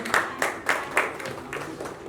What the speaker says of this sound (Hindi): जोरदार तालियां हो जाए cast and crew के लिए,